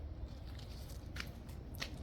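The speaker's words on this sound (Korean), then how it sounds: "개뿔 뜯는 소리 나 들어봤네 씹는 소리하고 같이 해?" A dog chewing and tearing at grass in a winter garden. A few soft, crunchy bites sound close by over a steady low background rumble.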